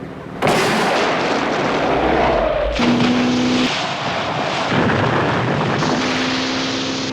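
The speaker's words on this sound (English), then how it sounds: "Depth charges." Depth charges exploding underwater in a 1983 action TV drama scene, a continuous loud roaring blast with rumbling surges and abrupt shifts, no talk over it.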